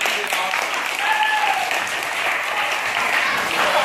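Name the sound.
applause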